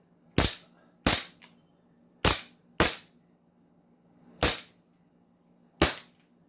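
An airsoft G18 pistol fires six sharp, snappy shots at uneven intervals, each a crisp close crack with a quick decay, alone against a faint steady background hum.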